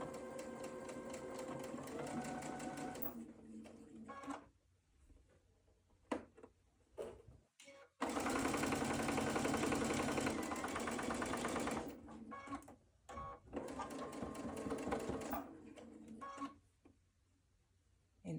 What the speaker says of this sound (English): Okay, now sew my star legs into one big star. Sew it together just like I'm sewing a 4-patch.